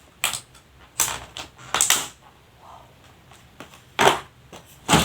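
Take-out pork tonkatsu packaging with rice being opened: several sharp crinkling, rustling bursts of plastic or paper up close, separated by brief quiet pauses.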